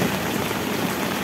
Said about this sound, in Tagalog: Ulala, ang lakas ng ulan, ang lakas ng ulan.